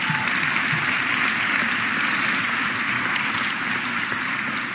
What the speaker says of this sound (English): Please give our cabinet a round of applause.